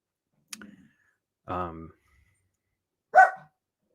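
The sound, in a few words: dog barking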